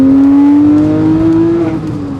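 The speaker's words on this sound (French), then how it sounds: "Quel son, quelle patate." A Porsche 997 GT3 with its naturally aspirated 3.6-litre flat-six and Cup oil sump revs loudly and steadily, the engine note rising smoothly in pitch before easing off near the end, heard close and alone.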